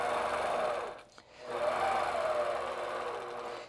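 Longarm quilting machine in stitch-regulated mode, stitching in the ditch along a ruler, a close continuous hum that dips briefly and resumes steadily.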